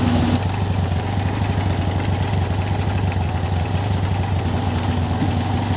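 A motorcycle engine runs close and loud at a steady, throbbing low rumble with no break, on a muddy, rough mountain road.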